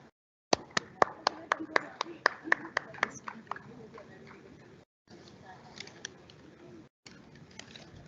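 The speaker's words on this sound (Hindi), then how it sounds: "एक बार फिर जोरदार तालियों से इस क्षण को गौरवान्वित करें।" Applause and clapping from an audience at the dedication ceremony of a 660 MW power plant unit at NTPC Barh, starting with a sharp burst of claps. The clapping later thins into scattered claps over crowd murmur, with bird calls in the background.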